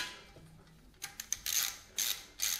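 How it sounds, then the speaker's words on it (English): A socket wrench ratchets on a rusted nut sprayed with penetrating oil, giving several short bursts of dry clicking, close and fairly loud, with quiet gaps between strokes. "Spray, and then with a socket just work that nut on"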